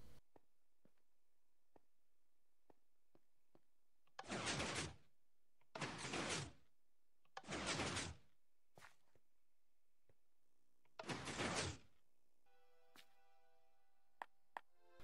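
Minecraft piston bank vault door with iron and obsidian blocks moving in a video game, four loud separate whooshing slides at uneven intervals, with small clicks between them.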